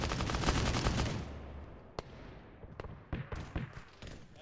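Gunfire in Arma 3: a dense burst of automatic fire fades out, followed by scattered single shots and short cracking bursts at moderate distance.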